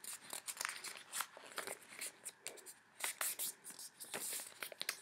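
Paper is folded into a smaller triangle by hand, producing close, faint crisp rustles and sharp creasing crackles in irregular bursts.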